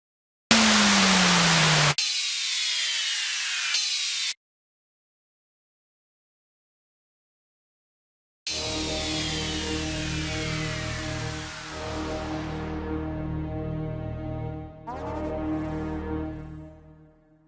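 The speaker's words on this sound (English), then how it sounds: "It's time for some effects, like a downlifter, for example." Dubstep intro downlifter effects: noisy sweeps sliding downward in pitch, a pause of silence, then a longer bright sweep falling into a low rumbling tail.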